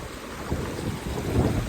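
Fast muddy stream water rushes past in Ladakh, a loud, steady broadband roar mixed with buffeting wind on the microphone.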